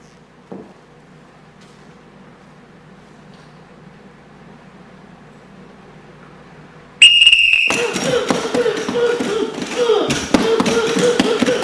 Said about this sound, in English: I'll blow the whistle once, he'll start.